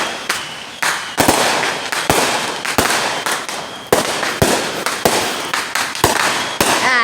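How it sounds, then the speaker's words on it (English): Fireworks and firecrackers go off in a rapid, irregular series of loud, sharp bangs, each followed by a crackling, hissing decay, continuing without pause. "Never mind, I'm gonna go see fireworks."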